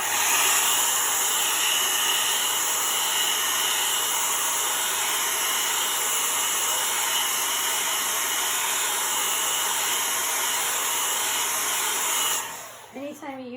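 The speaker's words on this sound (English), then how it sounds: "then we're going to use the blow dryer to dry this a little bit" A steady, loud blow dryer drying craft paint on a Halloween pumpkin project roars continuously with an even hissing airflow, then switches off near the end.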